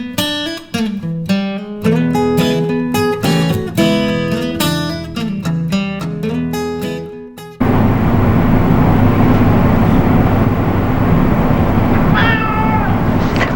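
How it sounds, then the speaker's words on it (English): A house cat gives one short meow near the end, heard faintly over a loud, steady rushing noise that follows a stretch of plucked, rhythmic music. "This is Nala the cat."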